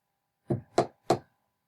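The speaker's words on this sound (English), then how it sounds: "Very soon there came a little soft knock at the door." Three soft, evenly spaced knocks sound on a wooden door, close by and quiet, with short silences between them.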